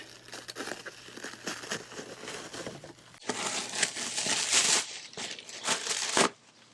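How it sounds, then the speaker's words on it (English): A roof rack packaging box is cut open, and its cardboard and plastic wrapping crinkle and tear close up in irregular rustling bursts that grow louder midway and then stop abruptly. "We're just gonna cut this open and see how many parts we've got"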